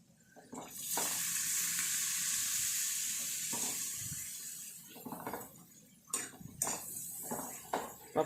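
Fish frying in a pan at home, with a continuous sizzle broken by stirring, scraping and clinks of utensils, and brief pauses between bursts.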